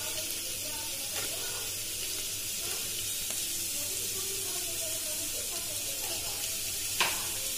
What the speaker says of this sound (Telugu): ఆయిల్ హీట్ అయినాక చాప్డ్ జింజర్ యాడ్ చేసుకోవాలండి అలాగే చాప్డ్ గార్లిక్ కూడా యాడ్ చేసుకోవాలండి